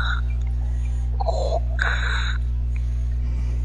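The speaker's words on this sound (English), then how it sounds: "Who sounds like Darth Vader breathing on a mic?" Heavy, raspy breathing into a microphone sounds in a few close, loud puffs over a steady low electrical hum.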